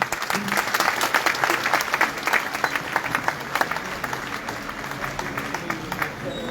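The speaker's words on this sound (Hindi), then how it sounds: "और जोरदार तालियों से।" A crowd at a training session claps in sustained, energetic applause, the dense patter of many hands continuing steadily throughout, heard from within the room.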